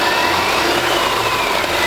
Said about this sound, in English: So Tucker, can you give us 1500 RPMs?